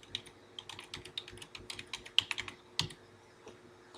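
Keys clatter on a computer keyboard as a file name is typed, a quick irregular run of light clicks with a few sharper taps, close and fairly quiet, with no one talking.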